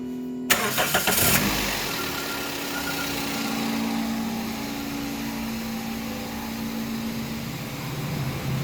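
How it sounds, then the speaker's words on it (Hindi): A car engine cranks with a few quick chugs, then catches and settles into a steady, loud idle hum that continues without letup. "स्टार्ट कर गाड़ी।"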